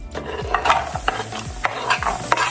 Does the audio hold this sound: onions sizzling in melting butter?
yes